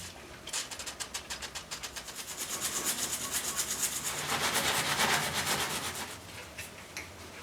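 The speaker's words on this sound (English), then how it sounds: "Just chasing that thread through with a tap just to get out all the rust and thread lock that was in there" A thread tap chasing a rusty thread clogged with thread lock on a Hayabusa motorcycle part, rhythmic scraping rasps repeating about twice a second, building louder then easing, close up and without talk.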